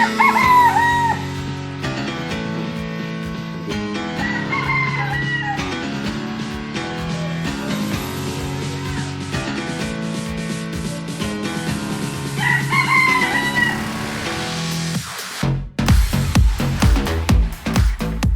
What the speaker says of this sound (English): I thought roosters only woke people up, but I guess they make noise whenever they want to